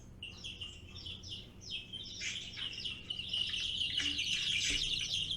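Baby chicks chirp at an egg hatchery, a lively flurry of high, quick peeps that starts soft and grows denser and louder toward the end, with no talking.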